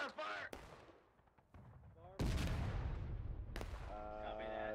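Artillery fire in the Civil War game War of Rights on the Dunker Church map: booming cannon shots with rumbling tails, the loudest blast near the middle, amid distant gunfire and voices talking over it.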